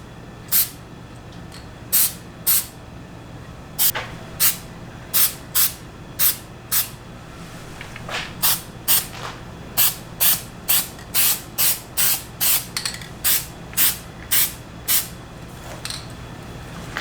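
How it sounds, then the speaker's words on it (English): A Plasti Dip aerosol can sprays onto a Ford F150 emblem in around twenty short hissing bursts, close and loud, spaced unevenly at first and then coming in quicker succession. "let's give it a spray"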